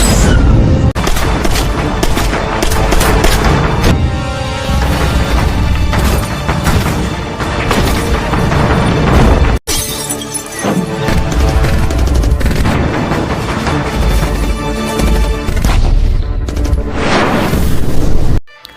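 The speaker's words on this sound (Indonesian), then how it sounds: "sehingga perang senjata jarak dekat pun terjadi" Close-range gunfight from an action film: dense, continuous bursts of gunfire and booming impacts, loud and near throughout, with a brief cut near the middle before the shooting resumes.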